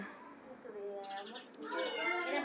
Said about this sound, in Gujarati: મ્યાઉ મ્યાઉ મ્યાઉ મ્યાઉ મ્યાઉ